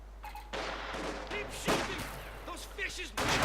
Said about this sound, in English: the heavy mortar bombards away at suspected fascist positions